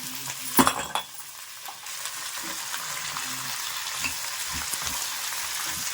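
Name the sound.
coconut, mint and coriander frying in a pan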